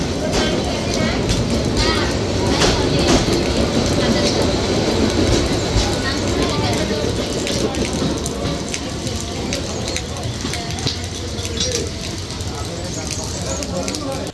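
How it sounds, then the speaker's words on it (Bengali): Korotoa Express pulling out of Tista Junction, a loud, steady rumble of wagons with rattling clickety-clack running the whole way through, a faint hiss over the top and voices in the background. "আর ছেড়ে যাচ্ছে করতোয়া এক্সপ্রেস"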